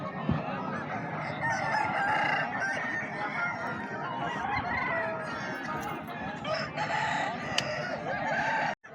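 Roosters crow and chickens cluck continuously in a poultry pen at a fair stall, a dense, loud chorus of overlapping calls running throughout with no talking.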